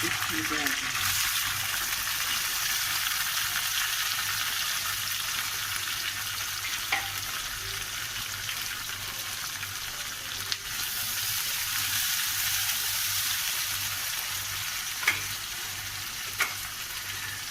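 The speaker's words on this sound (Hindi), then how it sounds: "ये कीमा लिया, कीमा भी साथ ही फ्राई हो गया प्याज। 5 मिनट के लिए इसे फ्राई करना।" Minced meat and onions fry steadily in a pan, a loud continuous sizzle with occasional scrapes of stirring, while a voice speaks over it.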